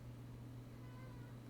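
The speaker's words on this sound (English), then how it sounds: "If you meow again, I'm getting up." A house cat gives a faint, drawn-out meow around the middle, barely rising above a steady low hum in a quiet room.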